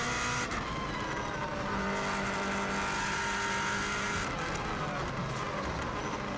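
Onboard a Subaru WRX STI on a record run on the Isle of Man TT road course, a steady loud engine roar at speed with gear changes and a brief tire scrub, no voices.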